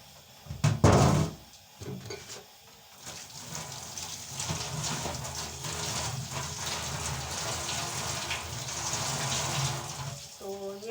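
Tap water running and splashing while dishes are washed at home, starting with a loud gush and then flowing steadily at moderate volume, with clinks of utensils near the start and end.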